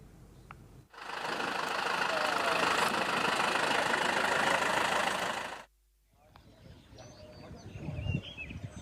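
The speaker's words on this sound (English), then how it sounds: "tractors roar across freshly tilled fields as competitors demonstrate the art and science of land preparation" Tractor engines at a ploughing contest on a farm outside Nairobi, a loud steady engine drone that holds for about five seconds and then cuts out, leaving quieter outdoor sounds with birds.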